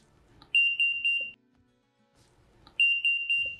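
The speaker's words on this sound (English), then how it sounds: "it's gonna beep three times when you're really pushing it" Two bursts of rapid electronic warning beeps from a 2023 microwave car blind spot sensor, each a short run of high-pitched tones, separated by a pause with faint background noise.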